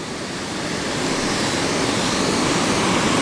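Waterfall rushing through the Bad River Gorge in Wisconsin, a steady broadband roar that swells slightly and stays constant, heard alone without voices.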